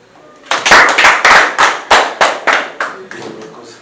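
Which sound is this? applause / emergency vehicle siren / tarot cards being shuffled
applause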